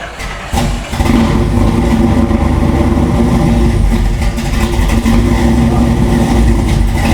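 A custom car with a full exhaust revs loudly at a custom car showroom open house, the engine catching after a brief quieter moment and then holding a deep, rumbling, steady roar up close.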